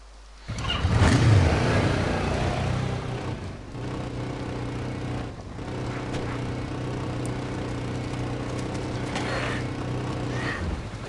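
A motorbike engine in DayZ runs steadily at moderate loudness after starting up, holding a droning, revving tone with brief dips and no talk over it.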